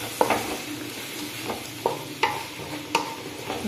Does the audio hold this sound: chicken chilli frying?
yes